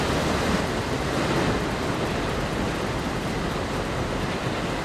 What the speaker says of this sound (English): A ferocious wall of water tore through the valley.